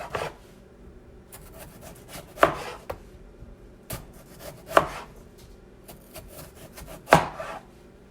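Knife slicing green tomatoes on a cutting board, with three sharp, close chops standing out over light rubbing and scraping, spaced a couple of seconds apart, and no voices.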